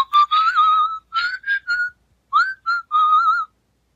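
A cat whistling a jaunty tune, from a children's farm sound-button book: a clear whistled melody of several short and sustained notes with brief gaps, loud and close with no other sounds.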